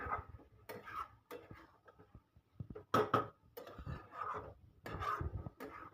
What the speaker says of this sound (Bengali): গরম মশলাটা দিয়ে কষাবো